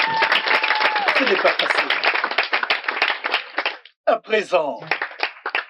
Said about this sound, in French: S'il vous plaît, des acclamations.